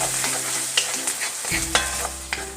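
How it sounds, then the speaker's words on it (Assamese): Ground masala for a spicy chicken curry frying in oil and being stirred, with a steady close sizzle and several scraping strokes of a spoon against the pan. "অকমান সময় ভাজিব"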